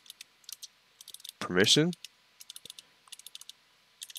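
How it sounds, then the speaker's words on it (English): Rapid clicking keystrokes on a computer keyboard as commands are typed for a Pixelmon game server, steady bursts of close, light taps broken by a short spoken word. "we're just going to type in group default"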